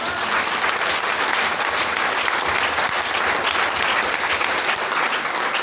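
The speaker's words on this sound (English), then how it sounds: "Let's clap our hands for Jesus." A church congregation claps its hands for Jesus in a loud, continuous wash of applause that holds steady for nearly six seconds.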